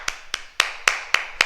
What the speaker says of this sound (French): ça applaudit très fort, bravo.